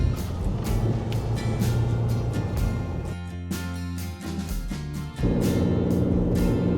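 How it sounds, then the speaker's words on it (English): A 2024 RAM 6.7 H.O. diesel truck's engine brake runs as a loud, steady low rumble that shifts pitch partway through, then surges harder near the end; no talking. "That's where we just love this engine brake."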